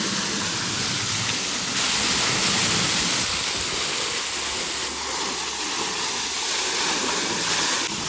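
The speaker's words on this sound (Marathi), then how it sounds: "त्यांनी त्यांची मोटर टाकून ते पाणी बाहेर काढून त्याच पाणीने क्लीन करतात" A motor pumps water out of a well during a well cleaning in Kokan, giving a steady, loud rushing and splashing wash that continues unbroken throughout.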